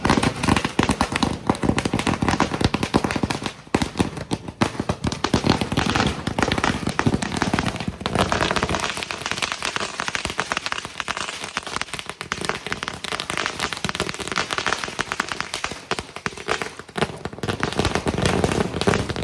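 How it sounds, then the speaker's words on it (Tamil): Long string of firecrackers bursting at a family celebration in Nagercoil, a dense, loud, continuous crackling barrage of rapid pops lasting the whole time with only brief dips. "அதுவும் நல்ல சரமாரியாக நல்லா வெடிக்க ஆரம்பிச்சிருச்சு"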